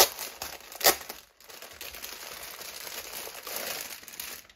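A Playmobil blind bag is torn open and handled, its thin plastic crinkling and crackling close up with a sharp rip near the start, then steady rustling throughout.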